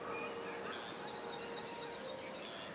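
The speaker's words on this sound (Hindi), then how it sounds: "चिड़ियाँ का चहचहाट" Birds chirp at sunrise in quick, faint bursts of tweets over a steady outdoor background hum, heard from a distance.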